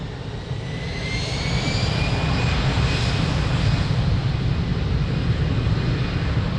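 A jet airliner at Lisbon Airport roars loudly and steadily close by, with a rising whine over its broad engine rumble that holds throughout.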